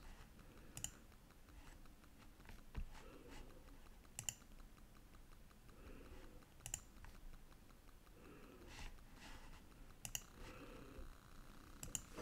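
Mouse clicks land one at a time while answers are picked in an educational game on a website, sharp isolated clicks spaced a second or two apart over faint background murmur.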